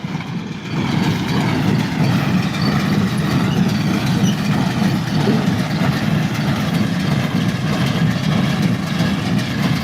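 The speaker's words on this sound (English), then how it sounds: "It's not very often I get to hear the baler sounds from this end." A hay baler drones loudly and continuously nearby, a heavy steady mechanical rumble with a rhythmic churning quality and no speech.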